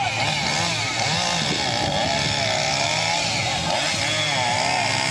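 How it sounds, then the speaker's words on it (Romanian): A chainsaw cuts a log during a contest at a village festival in Hoceni, its engine loud and close, revving and wavering continuously with no pause. "Apoi de metru în metru tăiați cu drujba."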